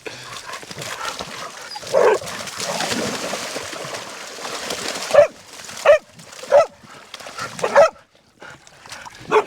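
Several working dogs beside a ute give short, sharp barks and yips, with whimpering in between and a brief voice nearby, close and loud in irregular bursts.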